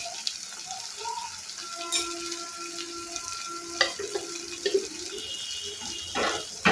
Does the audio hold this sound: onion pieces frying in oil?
yes